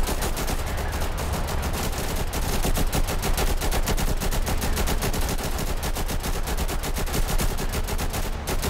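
Infantry in the Total Conflict: Resistance video game keep up dense, continuous gunfire. Overlapping shots crackle steadily at a constant level throughout, with no break.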